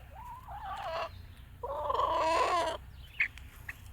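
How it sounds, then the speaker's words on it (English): Backyard chickens nearby clucking and warbling in a few bursts, one long throaty call in the middle, then a short sharp note near the end. "Happy chickens."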